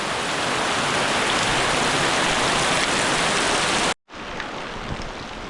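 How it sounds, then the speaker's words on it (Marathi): Heavy monsoon rain pours down during a sudden downpour in Konkan, a loud, dense, steady hiss and roar that drops out abruptly near the end, then resumes a little softer. "बघा जोरात पाऊस आला जोरात"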